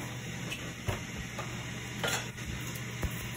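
Oil poured into an overly hot pan while making egg foo young gives off a steady, close sizzling hiss, broken by a few soft clicks and clinks.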